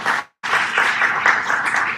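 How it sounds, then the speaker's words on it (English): Fifth-grade graduates and their audience at a school graduation clap in a dense burst; a brief gap near the start, then sustained, loud applause to the end. "So please give yourselves a big round of applause."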